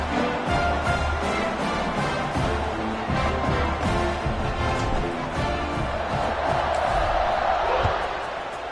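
A stadium crowd roars and cheers in the NCAA 26 college football video game, a loud, dense, sustained wall of noise that swells toward the end, with a voice talking over it.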